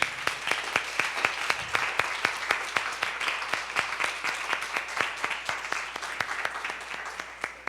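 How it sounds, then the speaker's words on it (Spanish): Audience applause at a collective-narrative lab presentation, a steady run of many sharp hand claps sustained evenly throughout, moderately loud and fairly close, with no talking over it. "Yo gustaría de pedir una salva de palmas para lo que han producido."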